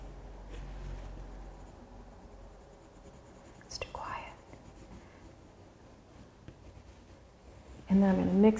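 Faber-Castell colored pencil scratches softly across paper while drawing a brown stem, faint scratchy strokes with occasional louder scrapes and a short burst of quiet handling noise near the end.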